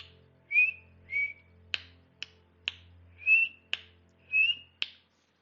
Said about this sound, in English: And that's your signature whistle.